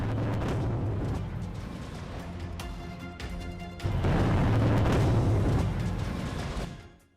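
Deep rolling booms from a Russian airstrike on Kharkiv, a heavy sustained rumble that eases off and then surges back with a second powerful blast before fading, distant and without voices.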